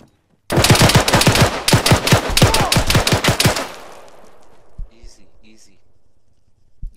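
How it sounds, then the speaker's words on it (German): Rapid gunfire bursts from an Arma 3 firefight, a dense run of sharp, loud shots for about three seconds, then fading echoes and a few faint distant reports with low background noise. "Doch, da kommen Schüsse an."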